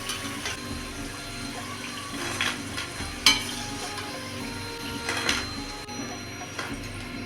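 Pieces of snake gourd 65 crackle and sizzle steadily as they deep-fry in hot oil, with occasional stirring scrapes and brighter spatters rising above the continuous hiss.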